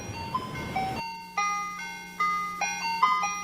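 An ice cream truck plays its tinkling music-box jingle in repeated bright melodic phrases over a steady low drone, clear and fairly close, with no one speaking.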